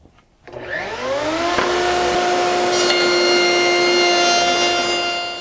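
Festool router spinning up on a CMS router table to joint a board: a quick rising whine that settles into a loud, steady high-pitched scream with no talking.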